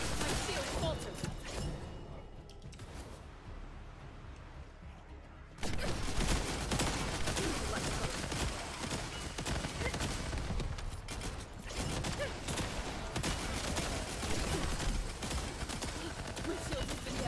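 Dense, continuous weapon fire from the looter-shooter game The First Descendant rattles on throughout, briefly easing before a louder stretch of rapid shots, with in-game voice lines heard over the gunfire.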